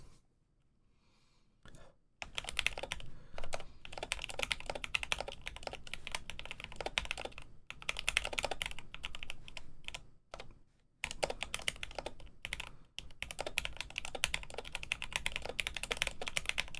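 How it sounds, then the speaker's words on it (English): Typing on a BoardSource Mark 65 mechanical keyboard fitted with Telios switches, GMK Polybius keycaps and a Cherry Nixies spacebar, a steady run of close, crisp keystrokes with a couple of brief pauses. "this is the Mark 65 from BoardSource, this time with the Cherry Nixies as the spacebar with the Telios switches on GMK"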